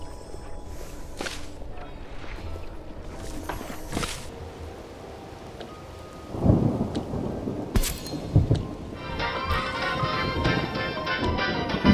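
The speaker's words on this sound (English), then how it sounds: "Rain incoming." Thunder rolls and cracks over steady rain during a storm in the video game Mind Over Magic, with a louder burst of downpour and rumbling partway through, then continuing rain; no one speaks.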